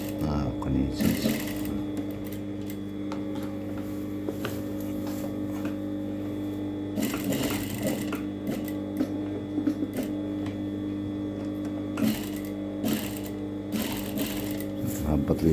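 A sewing machine hums steadily while stitching sfifa trim, its motor drone running throughout with brief louder bursts of rapid needle clatter.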